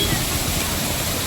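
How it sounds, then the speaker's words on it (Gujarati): Water pours down from above out of a natural stream, a constant loud rushing wash close by, with a voice speaking over it. "આમ ઉપરથી આવે જો, આમાંથી જોરદાર પાણી આવે."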